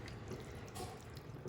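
Hot water poured over the metal bands of Tattler reusable canning lids, a steady close splashing trickle with a low watery rumble underneath, brief and unbroken.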